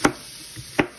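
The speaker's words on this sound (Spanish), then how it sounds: "Vamos a cortar la calabacita." Two sharp knife strikes cutting through a zucchini on a cutting board in a home kitchen, spaced well apart and fairly close, with no voices.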